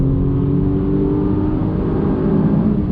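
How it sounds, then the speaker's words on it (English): A 2020 Audi S6 accelerates in dynamic mode with all-wheel drive and an automatic gearbox, giving a steady, loud, close engine drone that holds throughout with no talk. "let's do a little acceleration"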